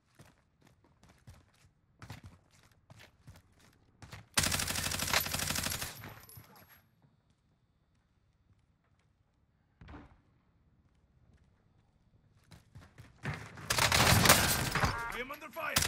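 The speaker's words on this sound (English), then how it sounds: "I am under fire." Call of Duty gunfire: a loud sustained burst of automatic fire, a lone muffled shot, then another heavy burst after quieter stretches with faint game sounds.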